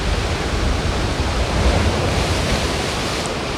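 Sea waves break close to a sunny rocky shore where water splashes up, making a loud, steady, broadband roar with no voices.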